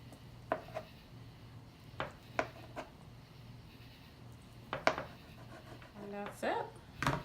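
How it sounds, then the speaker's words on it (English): A knife slicing vegetables on a cutting board for a Russian salad makes sparse sharp taps spaced irregularly, close and moderately loud over a low background hum. "And then slice it."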